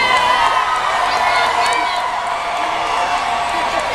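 A large arena crowd at a John Cena show in West Virginia cheers and whoops continuously, a dense, loud roar with shouts rising throughout.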